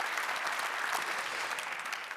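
Sustained applause from an audience at an award ceremony for city energy labels, dense and steady throughout without a break, with no voices standing out above it.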